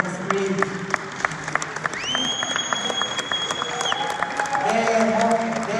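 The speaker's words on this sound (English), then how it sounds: "Maybe the technical team need your applause to put the demo on the screen." An audience at a blockchain presentation event in Colombia claps, a steady run of individual claps while a long electronic tone rises and holds midway, with murmuring voices underneath.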